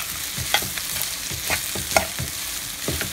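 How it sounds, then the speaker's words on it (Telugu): Mango pulihora rice being stirred in a pan, a steady run of scraping spoon strokes about twice a second over a soft frying sizzle, close and moderately loud with no voices. "సో మంచి మిక్స్ చేసుకోండి, అన్నం అంతా కలిసేలాగా మంచి మిక్స్ చేసుకోండి."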